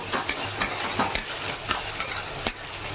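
Ginger, garlic and chili paste frying in a pan gives a steady close sizzle, with a spoon scraping the pan at regular intervals over it and no voices.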